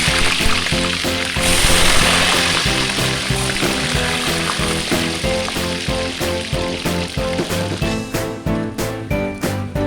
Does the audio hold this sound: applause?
no